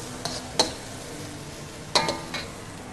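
Spatula scraping and clinking against a pan while stirring Korean-style fried rice, two or three short sharp scrapes over a soft background sizzle.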